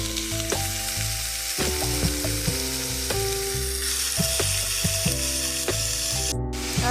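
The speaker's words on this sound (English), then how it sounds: "Now we're going to add in our ground beef" Ground beef fries with minced garlic in a pan, a loud steady sizzle with repeated scraping and tapping of a utensil against the pan, no voices.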